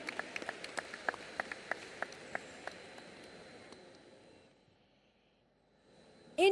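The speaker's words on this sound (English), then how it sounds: "Big round of applause for our 4 nominees" Applause for four award nominees at the closing ceremony of the International Film Festival of India: a sparse run of separate, faint claps at an even pace that fade out into near silence.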